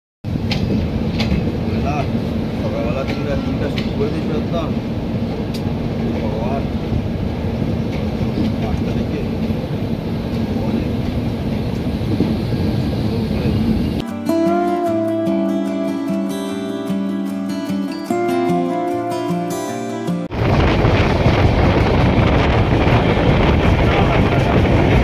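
The 13151 Jammu Tawi Express stands at Banaras Junction during a two-minute halt, with a steady, loud low rumble and wind-like noise throughout. Voices are faintly audible, and a stretch of music briefly takes over in the middle.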